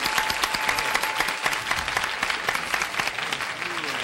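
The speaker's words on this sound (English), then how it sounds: "You applaud when the other team gets it" Players and audience at a home version of the Password game show break into steady applause, with a little talk beneath the clapping.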